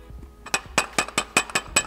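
Metal clinks from a hammer tapping a special wrench onto the steel shaft of a Danfoss DN150 ball valve, about six quick, bright strikes in a fairly even rhythm, close up with no talking.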